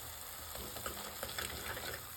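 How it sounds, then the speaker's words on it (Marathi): Mushroom masala frying in a pan over medium heat, with a dense, steady sizzle and soft crackles of spices throughout, alone with no talking. "हा मसाला 5 मिनिटं आपल्याला मध्यम आचेवरती व्यवस्थित भाजून घ्यायचा आहे"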